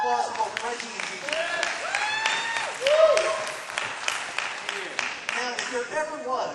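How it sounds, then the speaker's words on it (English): An audience claps warmly as two horror-film guests are welcomed onto a stage, a sustained spread of applause with cheers and voices mixed in, swelling briefly midway before settling. "Wonderful round of applause for both Reggie and Gigi."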